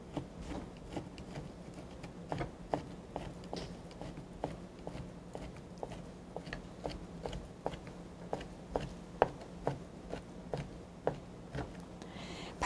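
A kitchen knife julienning ingredients on a cutting board during Korean cooking-certification practice gives a quiet, steady run of crisp taps, evenly paced and close, over a faint background hum.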